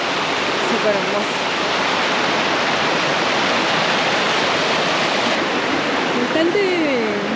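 A river rushes beside a mountain trail near Martial Glacier on a rainy day, a loud, constant roar of flowing water filling the whole scene, with faint voices briefly audible over it.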